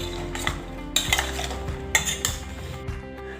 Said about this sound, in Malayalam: അതിലേക്ക് നമുക്ക് കുറച്ച് ഉപ്പുപൊടി ചേർത്ത് നല്ലോണം ഇളക്കാം